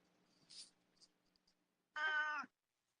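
A house cat lets out one clear, drawn-out meow near the end, preceded by a few faint soft rustles and clicks over a low background hum.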